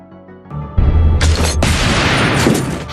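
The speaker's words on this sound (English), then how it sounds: "Despite this, the girl proceeds to pull the trigger, but Leon manages to push the pistol away at" A pistol fires in a movie scene about a hitman, with a sudden loud blast followed by a second sharp crack over a dense, booming soundtrack.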